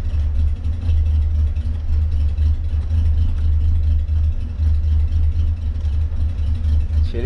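A cold Chevrolet Caravan SS engine idles steadily and loudly up close, a deep continuous low rumble with slight unevenness and occasional faint popping, with no talking over it.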